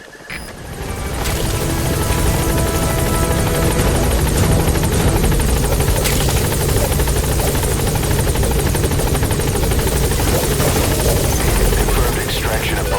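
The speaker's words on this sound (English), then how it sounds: "Get him out by chopper." A helicopter in the Metal Gear Solid V: The Phantom Pain video game, its rotor roaring loud, steady and close for the whole stretch, with a voice talking over it.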